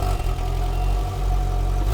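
Stock exhaust of a 2020-or-later Polaris Slingshot, a steady mid-pitched engine drone idling close up with a slight rise and fall, no talking.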